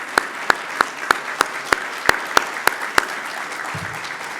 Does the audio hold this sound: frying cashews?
no